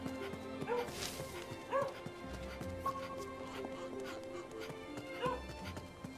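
A dog barks and yips in a video game, several short bright barks and whimpers scattered over steady game music and ambience.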